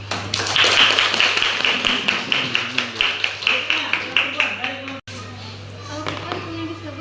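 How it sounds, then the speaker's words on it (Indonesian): A school class claps hands together in rhythmic unison during a lesson, loud, close and regular beats with children's voices mixed in, stopping abruptly near the end before a quieter stretch. "tepuk tangan dulu"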